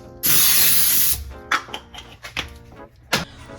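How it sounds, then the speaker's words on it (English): An aerosol can of cooking spray sprays in one long hissing burst into cake pans, followed by a few short spritzes and light kitchen clatter. "I got some cooking spray. I'm gonna spray that in both of those pans."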